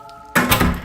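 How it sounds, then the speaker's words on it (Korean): A door shuts with one solid thunk, followed by a brief rattling decay in an indoor home setting, with no voices. "문을 닫고 나가는 소리가 들렸고"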